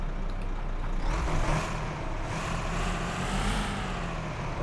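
Truck engine in American Truck Simulator cranking and starting, a loud, steady rumbling roar with a slight rise in the middle, close and continuous.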